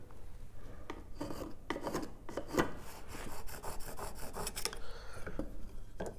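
Wooden beams being sawn by hand in a garage workshop, a close, rhythmic rasping of repeated back-and-forth strokes, loud and continuous with brief pauses.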